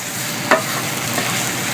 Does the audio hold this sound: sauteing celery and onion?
yes